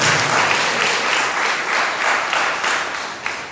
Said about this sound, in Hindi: ताली बजा के पढ़ते हैं।